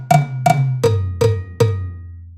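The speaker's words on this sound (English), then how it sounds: "I've also got cowbells assigned to the rims" Five evenly spaced cowbell hits triggered from the tom rims of a Roland TD-27KV V-Drums kit, each one sharp and bright with a short metallic ring, played alone at a steady pace.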